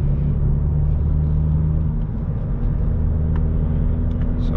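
Ford Fiesta ST Mk8 with a 1.5-liter three-cylinder engine accelerating on the Autobahn, a steady loud low droning engine hum with road rumble heard from inside the car.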